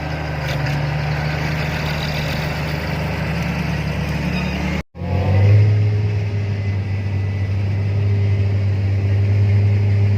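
Big John Deere 3520 sugarcane harvester engine rumbling steadily up close, a heavy low drone that cuts out briefly midway and returns louder and deeper, holding a strong idle-like roar.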